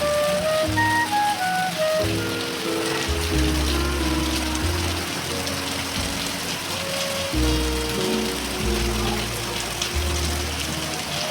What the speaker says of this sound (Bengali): বাইরেটা দেখুন মুসলধারে বৃষ্টি হচ্ছে